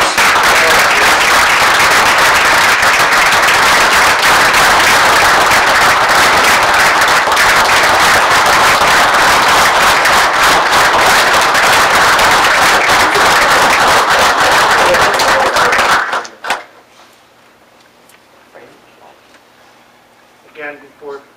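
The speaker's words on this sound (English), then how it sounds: "A round of applause." A council meeting audience gives firemen a sustained round of applause, dense loud clapping filling about sixteen seconds before stopping abruptly, followed by quiet room noise and a few faint sounds.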